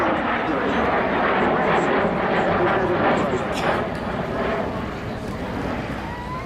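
An English Electric Canberra jet flying past at an air display at Dunsfold with flaps and undercarriage down, a broad steady engine roar that slowly fades, under a commentator's voice.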